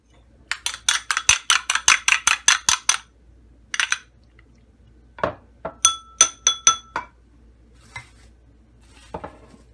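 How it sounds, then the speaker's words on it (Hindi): An egg is beaten in a bowl for chicken shami kabab. A quick run of about a dozen sharp clinks against the bowl is followed by a few scattered taps, close and without talk. "अंडे को फेंट लिया है हमने।"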